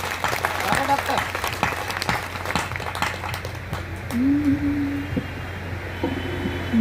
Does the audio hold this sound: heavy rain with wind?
no